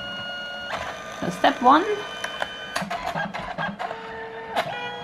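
A Canon Selphy photo printer works through a print pass with mechanical whirring, clicks and short motor bursts, close by, while a person talks over it.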